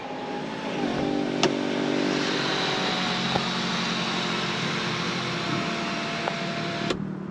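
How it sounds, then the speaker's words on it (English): Panoramic sunroof on a Mini Cooper S (F56) sliding open inside the cabin: a steady electric motor whir with a mechanical hum, running continuously for several seconds, with small clicks at the start and end. "let's open the sunroof"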